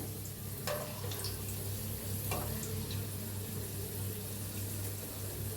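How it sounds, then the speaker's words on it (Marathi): Garlic cloves, not fully peeled, frying in hot oil for murmura chivda, a steady soft sizzle with a few faint clinks of stirring, low and even throughout. "ह्याला बी तळून घेऊया तेलात"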